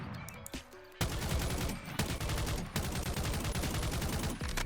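A 9mm Demon pistol fires rapidly in the video game Bonelab, with a loud close run of shots in several dense bursts and brief gaps between them.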